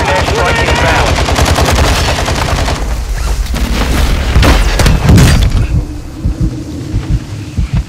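Call of Duty Warzone 2.0 precision airstrike explosions and rapid gunfire fill the scene with loud, continuous machine-gun bursts and heavy rumbling booms, tapering into a few scattered separate shots near the end.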